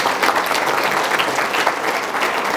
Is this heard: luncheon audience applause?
yes